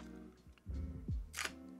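One crisp shutter click from a Fujifilm X-H2S mirrorless camera, short and close, heard over a low, tonal background hum.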